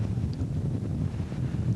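Steady wind gusting across an open golf course at Longhirst Hall, a continuous low rumble of buffeting against the microphone with no talk, moderately loud throughout.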